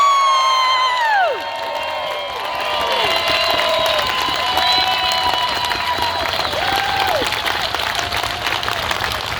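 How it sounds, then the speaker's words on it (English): A crowd applauds with steady clapping, mixed with cheers and whistles rising over it, sustained for several seconds. "they would like to hear perhaps a quick round of applause"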